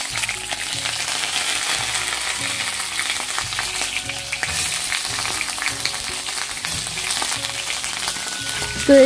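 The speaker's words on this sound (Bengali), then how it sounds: "এদিকে বেগুন ভাজাটা হচ্ছে" Eggplant frying in a pan, a continuous crackling sizzle held close and steady for several seconds, with a low musical hum running underneath and no talking.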